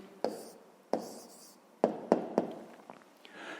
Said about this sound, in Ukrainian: Ну що ж, записуємо відповідь.